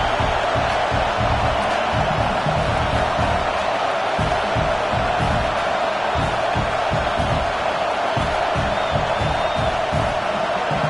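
A home football crowd roars steadily throughout a college game between Penn State and Nebraska during a field goal attempt, loud, dense and continuous, with no clear break in the noise.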